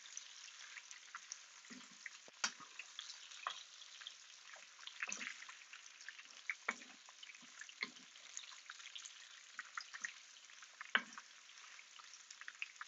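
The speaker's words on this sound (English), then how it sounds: "While we're waiting for the onions to caramelize in that" Onions frying and caramelizing in a pan give off a faint, steady sizzle with scattered soft pops and crackles.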